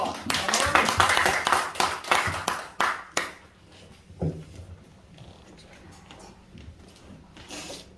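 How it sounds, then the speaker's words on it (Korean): A church congregation claps loudly for several seconds, then the applause drops off abruptly, leaving a quiet room with scattered taps and a brief voice. "하나님께 크게 박수합니다"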